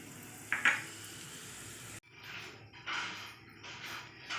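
Dried red chilli and nigella seeds sizzle as they hit hot oil in a kadai for tempering, a close crackling fry that swells in repeated bursts with a sharper spit near the start.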